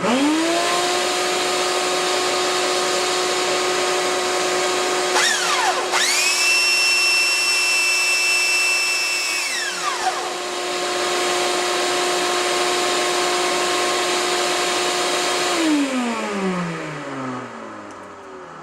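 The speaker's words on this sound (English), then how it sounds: "I'm going to suck that dust right up in there." A shop vacuum sucks up dust from inside an acoustic parlor guitar during repair, its motor droning loud and steady, whining higher as the nozzle is blocked for a few seconds, then dropping back and winding down at the end.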